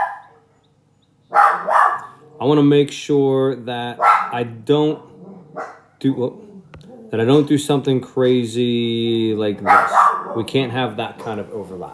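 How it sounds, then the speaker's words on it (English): Dogs bark intermittently in the background of a home workspace, their yaps partly buried under a man's continuous close-up speaking. "sorry about the dogs."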